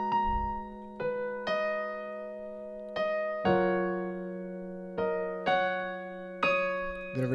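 A piano plays the intro of a song slowly, sustained chords struck about once a second, each ringing and decaying, quiet and close with no voices.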